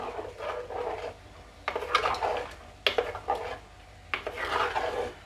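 A spoon scraping and stirring around a pot of dal curry with drumstick and mango in several short bursts, with brief pauses between strokes, close and fairly clear.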